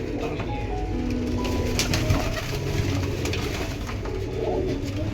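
Pigeons cooing close by in a loft, soft repeated coos over a steady background murmur, with faint talk in the distance.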